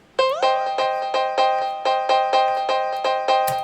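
A piano note at C slides up to G right at the start, then bright notes strike in an even, steady rhythm. Each one decays briefly before the next. No voices.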